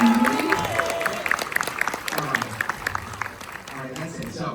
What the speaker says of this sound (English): Let's give one more round of applause to Nick up in the booth.